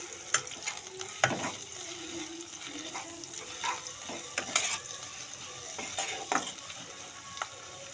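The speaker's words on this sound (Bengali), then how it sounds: "এখানে আমার কিন্তু পেঁয়াজটা কম বেশি ভাজা হয়ে এসছে, তো এতে আমি এবার দিয়ে দেবো আদা" Onion, ginger and garlic fry in hot oil, giving a soft, steady sizzle broken by several sharp scraping stirs of a utensil against the pan, close by and with no talking.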